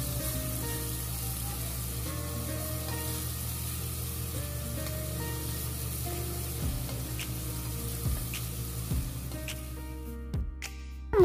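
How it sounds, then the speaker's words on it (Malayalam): Crushed spices sizzle steadily as they are sautéed in a pan for a mutton curry, with a constant frying hiss and occasional light scraping from stirring near the end. "ഇനി അതൊന്ന് നമുക്ക് വഴറ്റി കൊടുക്കാം"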